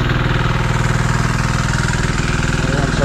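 Machinery engines run steadily at a pig farm, a loud continuous mid-pitched idling drone with a regular pulsing beat throughout, close by and without pause.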